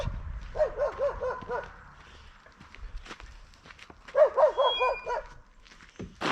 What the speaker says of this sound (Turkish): Bu çok iyi bir bekçi köpeği. Hiç yanaştırmıyor insanı.